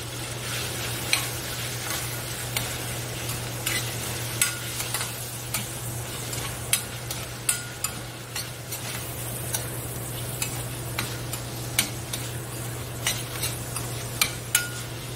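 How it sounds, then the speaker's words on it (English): Shrimp or prawns sauteing in a hot pan for baked surf and turf rice, with a steady close sizzle and frequent sharp clicks of a utensil stirring against the pan, and no talk. "next, we'll saute our shrimp,"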